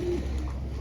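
Pigeon cooing, a single soft low coo from a fancy breeding pigeon, brief and near against a steady low background hum.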